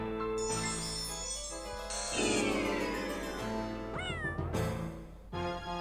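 A cartoon cat meows repeatedly in the King's Quest 2 remake adventure game, several loud, varied meows, some long and bending in pitch, over game music with chimes and no talking.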